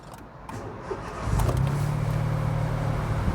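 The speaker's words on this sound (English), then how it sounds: "there it is, a little 3-cylinder engine" A small Smart Roadster W452 three-cylinder engine cranks and catches about midway, then settles into a steady, close idle, with wind noise in the background.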